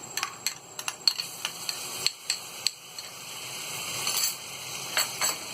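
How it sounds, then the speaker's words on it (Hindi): Ginger garlic paste added to onions frying in a pan for masoor dal gives a soft, steady sizzle, dotted with light clicks and taps from a spoon against the pan. "अब इसमें हम ये अदरक और लहसुन का पेस्ट डाल देंगे"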